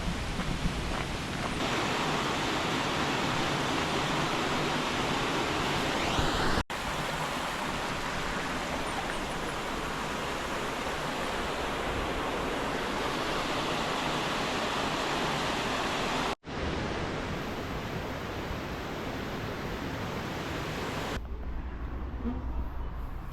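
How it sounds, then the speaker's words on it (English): Avalanche Creek Falls in New Zealand, a continuous broadband rush of falling water that stays loud and steady, with two brief dropouts and a shift in tone near the end. "you can see the waterfall here."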